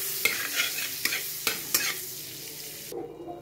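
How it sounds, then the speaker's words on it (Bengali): A cube of butter hits a hot kadai and sizzles softly, with a few quick scraping stirs in a steady rhythm before the sizzle cuts off abruptly. "এখানে আমি 1 কিউব মতন মাখন বাটার আমি কড়াইতে দিয়ে দিচ্ছি।"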